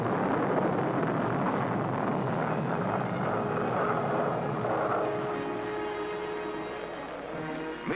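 A Nike Zeus anti-missile missile test launch sends out a loud, sustained roar with a dull, muffled, old-recording tone that fades slightly toward the end.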